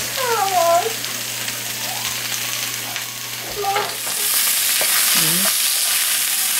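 Peppers sizzle in a hot pan while being stirred, a steady frying hiss that swells louder toward the end, with brief scraping stirs and a little low background hum.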